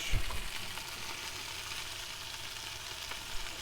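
Rump steak stir-fries with pepper in a pan over a camp stove, giving a continuous close sizzle and crackle with no talking.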